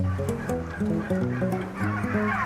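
Turkeys on a turkey farm gobble and cluck in a busy, overlapping chorus, steady and fairly close, with no talk over them.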